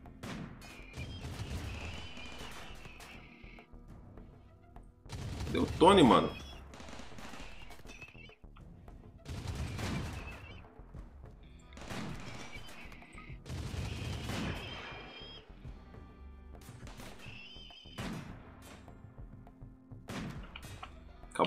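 Scattered gunshots and short bursts in a Rimworld fight, spaced irregularly with one louder blast near the middle, while someone talks between the shots.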